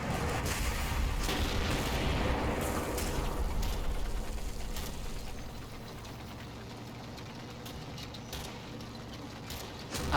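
Heavy tank gunfire and impacts on a Panther turret in the Combat Mission wargame, a dense, loud rumbling barrage with booming blasts throughout, easing slightly toward the end.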